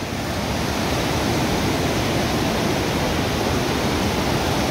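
A mountain river in Nepal's Langtang Valley rushes in a steady, loud, unbroken roar of flowing water, with no voices over it.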